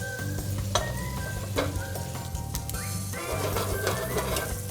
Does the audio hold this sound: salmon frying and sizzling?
yes